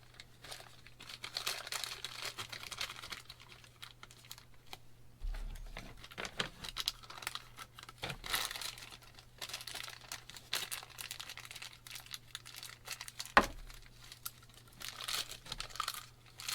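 A plastic bag crinkles in a mechanic's hands while a boost bolt is installed on a 6.7 Cummins diesel engine, with soft, irregular rustling and crackles and a few sharper crunches throughout.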